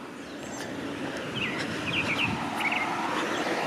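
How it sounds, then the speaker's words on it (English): Birds chirp in a suburban Toronto neighbourhood of townhouses, a few faint, brief tweets rising above a steady broadband hum of distant traffic and outdoor ambience. "And the birds are coming back out too."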